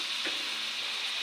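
Pork, liver and gizzard sauté for lomi, giving a continuous, even sizzle of frying that stays close and steady for the whole short moment with no talking.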